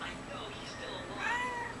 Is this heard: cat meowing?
yes